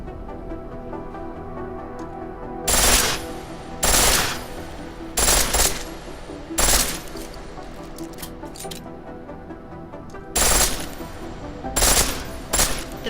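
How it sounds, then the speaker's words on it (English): A pistol in full auto rattles off in Deus Ex: Mankind Divided, seven or eight short, loud bursts of rapid shots separated by brief pauses, close and sharp over a low game ambience. "The pistol in full auto will take down targets fast, but it'll burn through your ammo."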